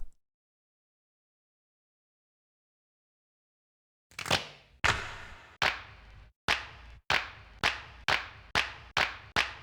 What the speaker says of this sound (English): we're gonna just have to get some claps here.